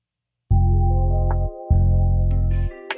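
A song begins after a brief silence with two heavy sustained bass-laden chords and held synth tones, separated by a short gap, loud and clean.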